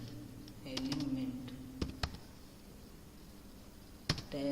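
Someone types Java code on a computer keyboard in a few short bursts of crisp clicks, with separate louder key taps between them, while someone talks through a programming lesson.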